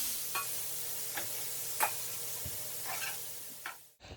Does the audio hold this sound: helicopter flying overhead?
no